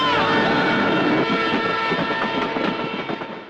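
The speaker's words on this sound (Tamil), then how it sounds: "ஏன்னா அங்க ட்ரெயின் பாஸ் ஆகிட்டு இருந்தது." A train rushes past, loud and close, with a dense rumble and sustained horn-like tones that fade slightly toward the end.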